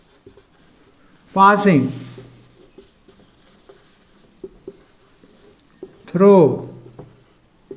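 Marker or chalk writing on a board during a physics lecture on parabolas, two quick scratchy strokes standing out close and clear amid quiet taps, with no talk over the writing itself.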